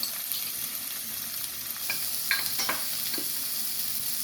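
Cumin, asafoetida, garlic, onion and coriander fry for palak paneer, giving a steady, close sizzle in hot oil with a few louder crackles and stirring scrapes partway through.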